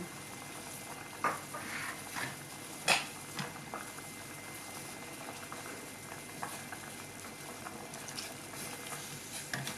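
A canned fish tom yum soup with holy basil bubbles in a pot, a faint low simmering patter broken by a few soft clinks and stirring knocks.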